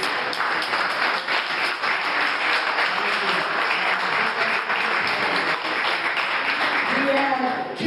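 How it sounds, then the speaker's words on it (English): A crowd at a Matagorda County Democratic candidate forum applauds in a long, steady wash of clapping, with voices talking over it toward the end. "give them a huge round of applause"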